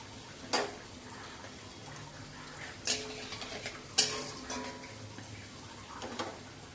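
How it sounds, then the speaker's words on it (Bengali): Whole cumin seeds frying in hot oil, a soft continuous crackle with a few sharp pops and spoon taps spread across the clip, close but fairly quiet, with no talking. "গোটা জিরে ফোড়ন দিয়ে দেবো।"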